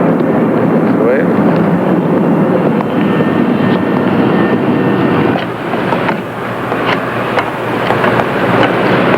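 An airplane flying in produces a loud, continuous engine roar that dips briefly and swells again, with voices talking over it.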